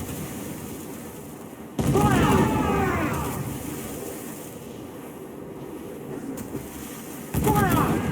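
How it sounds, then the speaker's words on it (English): Ship crew firing guns in the pirate game Assassin's Creed IV Black Flag: two loud volleys of gunfire a few seconds apart over rushing wind and sea noise, with shouted voices mixed in. "They are firing, sir!"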